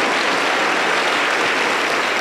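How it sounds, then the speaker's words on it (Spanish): Loud, sustained applause from a church congregation during a Spanish-language evening service, dense steady clapping that fills the whole stretch without a break. "Fuerte aplauso para el Cordero de Dios."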